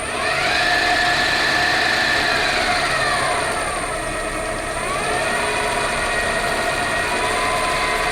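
A steady high-pitched whine of a drill spinning at about 1000 to 2000 RPM runs throughout, loud and continuous, with a slight dip in pitch midway before rising again.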